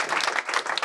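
A hackathon pitch audience gives a short burst of applause, many hands clapping close together in a brief, lively patter under a second long.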